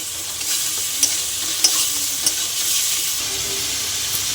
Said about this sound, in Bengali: পিঁয়াজ বাটা দিয়ে দিলাম ভালো করে কষিয়ে নেব